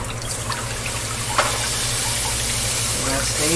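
Water, about a tablespoon, hitting a hot frying pan of crisping food on a home stove, giving a steady close sizzle and hiss with a brief splash-like burst near the start.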